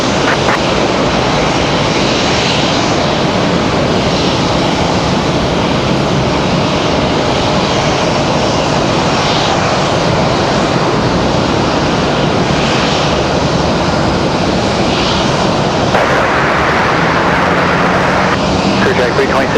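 Airliner engines roar steadily at Raleigh-Durham International Airport near runway 5, a loud continuous jet rumble that holds for the whole stretch and shifts slightly near the end, with radio chatter in the background.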